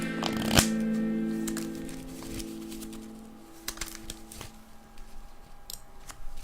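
Soft riffling and clicking of Magic: The Gathering cards being shuffled, with a sharp snap early on followed by scattered light taps and flicks.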